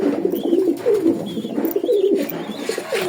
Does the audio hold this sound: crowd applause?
no